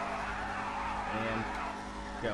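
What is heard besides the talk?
Ruiner 2000 car launch with wheel spin, video game GTA 5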